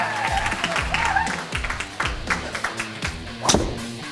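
Scattered clapping from onlookers at a Korean long drive golf league event, moderate and uneven with a few sharper hits and some background voices.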